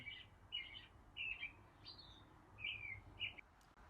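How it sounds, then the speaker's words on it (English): An Alexa smart speaker plays recorded bird calls, a run of about six short, bright chirping phrases at a quiet level over a soft low hum. "Okay, here's sleep sounds, bird sounds."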